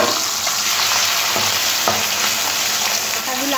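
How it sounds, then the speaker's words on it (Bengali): Hilsa fish heads, rubbed with salt and turmeric, fry in hot oil with a loud, dense, continuous sizzle close by, plus a few faint stirring knocks. "তার ইলিশ মাছগুলো দিয়ে ভেজে নেব।"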